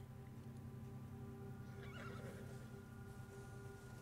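A horse whinnies once in the middle of a Red Dead Redemption 2 game scene, over a steady low drone and background hum, fairly faint and a little distant.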